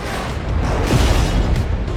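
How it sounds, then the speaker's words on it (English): A massive explosion in a movie scene, a loud, dense rumbling roar that swells in the middle and stays heavy and broad for the full two seconds, with no voices. "A massive explosion follows"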